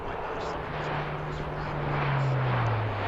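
British Airways airliner on landing approach at Heathrow airport, a continuous loud engine roar with a low tone that drops slightly in pitch as it passes, with background noise throughout.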